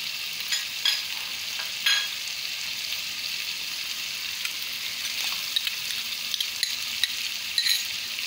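Mutton karahi frying in a pan, a steady bright sizzle throughout with a few sharper crackles and stirring scrapes, close and fairly loud, no talking.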